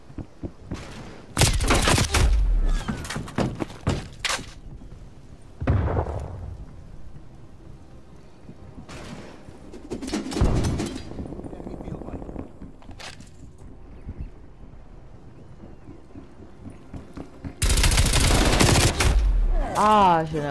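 Gunfire in the shooter Call of Duty Cold War, with repeated loud bursts of automatic fire separated by pauses and scattered single shots, close up and dominating the mix.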